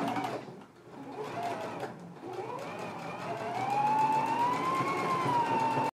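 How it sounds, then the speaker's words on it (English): A sewing machine stitches the shoulder seams of a dress, running as a steady mechanical whir with a brief dip early on, then holding loud and continuous to the end. "let's go ahead and stitch the shoulder seams and do the finish now"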